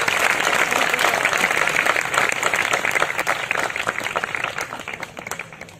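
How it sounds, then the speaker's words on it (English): A crowd of pilgrims claps steadily at a Navadwip Mandala Parikrama gathering, a dense, loud wash of many hands that holds strong for several seconds before thinning slightly toward the end. "Give him a love clap."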